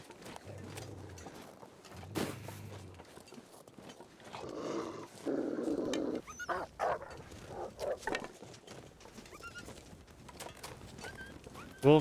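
A wolf in the survival video game The Long Dark growls and snarls in low, rough bursts near the start, then makes a sharper yelping cry midway over a quiet, windy outdoor ambience.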